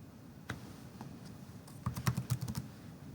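Computer keys clack quietly as a ping command is typed, a few isolated presses followed by a quick cluster of keystrokes near the end, close and faint.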